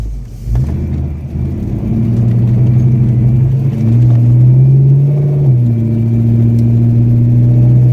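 A car pulls away, its engine rising from idle into a steady mid-pitched revving drone that holds loud and close through the rest of the drive, with no talking.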